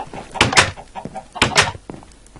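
Minecraft chickens on a chicken farm give two paired bursts of clucking about a second apart, close and fairly loud with soft clicks between.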